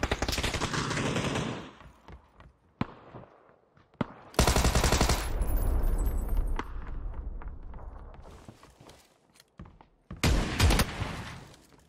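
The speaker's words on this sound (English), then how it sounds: "I have a Tommy gun against an M4." Tommy gun and M4 fire trade in close PUBG combat on Erangel in a solo match, with loud rapid automatic bursts, several long, separated by short pauses and a few single sharp shots.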